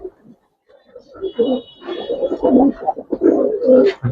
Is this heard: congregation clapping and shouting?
no